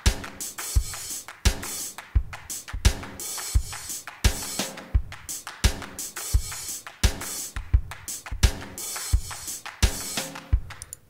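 A programmed drum loop from Reason 13's drum sequencer plays alone, with steady repeating kick, snare and hi-hat hits in a tight, evenly spaced rhythm, each bar sounding much like the last.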